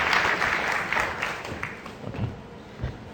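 A studio audience applauds at a television talk show, a dense wash of clapping that is loudest at the start and slowly thins out.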